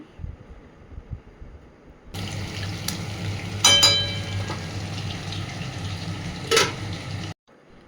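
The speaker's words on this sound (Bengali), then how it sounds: "তো এখন চিকেনগুলো লাল লাল করে ভাজছি" Chicken pieces fry in hot oil in a large wok, a steady loud sizzle that starts abruptly partway in, with a few sharper crackles and clatters.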